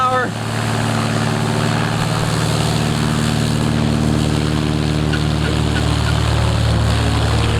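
STOL light aircraft with droop wingtips at full takeoff power, a loud steady propeller and engine drone with a constant low hum throughout, close by and uninterrupted.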